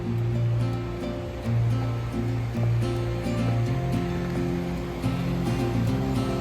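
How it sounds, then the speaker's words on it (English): Waterfall at Whitney Portal Pond in the mountains, a steady broadband rush of falling water heard in the background, constant and moderately faint, with a faint humming tone layered beneath. "you can hear the waterfall in the background"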